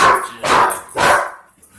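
An excited dog named Zaz gives three loud, close barks in quick succession, then a faint whimper.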